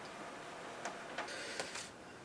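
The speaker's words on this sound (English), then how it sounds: "And it's going to load it or spool it" An Epson R2000 printer loading paper and spooling a job: a faint steady mechanical whir with a few soft ticks and clicks, heard alone with no talk.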